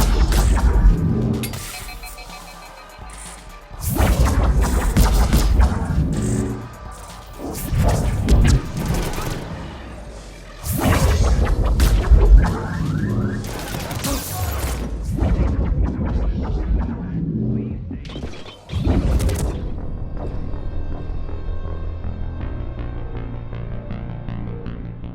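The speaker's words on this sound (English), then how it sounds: "Gunfire on the Silver Sun Strip." Gunfire and explosions in Mass Effect Legendary Edition on the Silver Sun Strip: loud bursts of rapid weapon fire and booming blasts come in waves, separated by brief lulls and a quieter stretch near the end.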